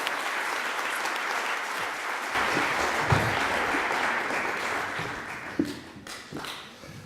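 A theatre audience at a public forum breaks into applause to welcome former minister Lloyd Axworthy, a dense, sustained clapping that swells after a couple of seconds, then thins and scatters toward the end.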